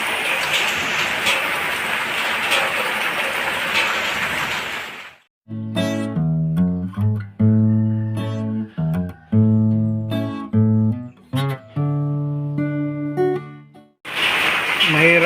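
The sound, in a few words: rain falling while cooking rice over a fire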